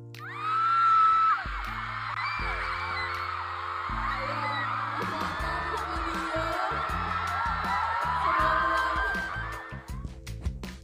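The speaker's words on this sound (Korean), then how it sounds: "현장에 모인 모든 팬들이 비명을 지르는 장면이 공개되어서 폭발적인 화제를 일으키고 있습니다" A large crowd of fans at an event screams loudly and keeps it up when a photo of the seven members appears on the stage screen. Bursts of background music and thumps are heard through the noise.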